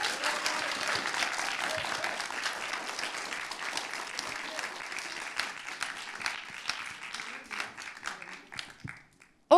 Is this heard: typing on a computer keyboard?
no